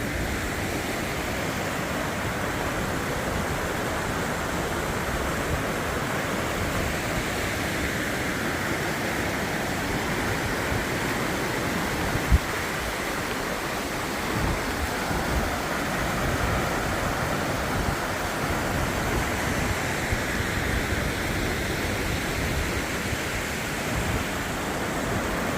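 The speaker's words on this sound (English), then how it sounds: "this bridge goes across that little river I was talking about" A small river rushing under a trail bridge on the Appalachian Trail, a dense continuous broadband roar of flowing water, steady and close throughout, with no talking.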